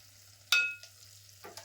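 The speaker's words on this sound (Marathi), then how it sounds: "तर आता मी ना त्याच्यामध्ये थोडी कोथिंबीर पण टाकते." Coriander leaves dropped into a sizzling tempering in a pan while making roasted brinjal bharit: a sharp burst of sizzle at once that fades quickly, followed by a few softer crackles, fairly quiet overall.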